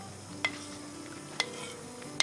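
A venison stew mixture stirred in a pot for Irish stew, with three short spoon scrapes and knocks against the pot over a low, quiet bubbling background.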